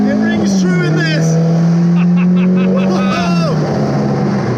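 A Caterham 310R sports car drives hard, its engine note loud and sustained, rising and settling through gear changes, with people talking over it throughout.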